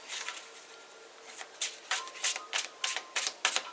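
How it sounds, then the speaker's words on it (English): Tarot cards being shuffled by hand give a run of crisp riffling flutters that start soft and quicken into several sharp bursts toward the end, close and without talk. "Give me 3 shuffles."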